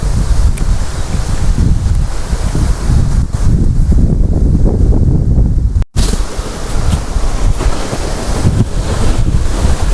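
Strong wind buffets the microphone outdoors during a weekend outing, a loud continuous roar with gusting low rumble that drops out for a split second midway.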